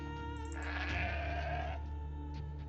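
Sheep in Age of Empires II bleat in a game setting, a single drawn-out wavering bleat rising over a steady hum of background game music and ambience.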